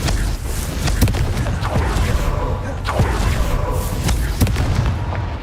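Confringo blasting spells from a Harry Potter video game, heard as a dense run of booming explosions and sharp bursts, several strong hits spaced about a second apart over a continuous rumbling battle din.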